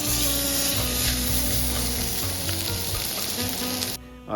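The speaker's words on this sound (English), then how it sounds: "we're going to sear the steak first" Steak sears in a hot skillet on a car-camping stove, a loud, steady sizzle that holds for several seconds before dropping away abruptly near the end, with no talking.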